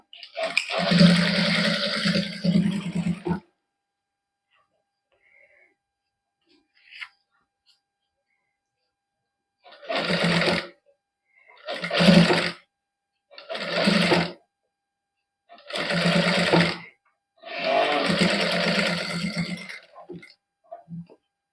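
A sewing machine stitching a cotton suit neckline runs in several bursts: one long run, a silent pause, then five shorter runs of steady whirring, close and fairly loud.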